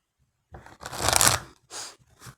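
A deck of oracle cards is shuffled by hand, close and crisp. One long riffle is followed by two short flicks, with quiet pauses between them.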